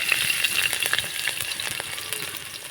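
Grated ginger and chopped green chili sizzle and crackle in hot white oil in a wok, a steady close frying hiss with sharp spattering pops, no voices.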